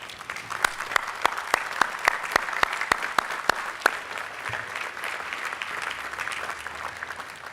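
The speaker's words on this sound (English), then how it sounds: "Will these faculty and staff stand so that we may applaud you for your gifts to us all, these long-time retiring faculty and staff?" Dense applause from a commencement audience honoring long-time retiring faculty and staff, with sharp individual claps standing out for the first few seconds before settling into a steady, sustained wash of clapping.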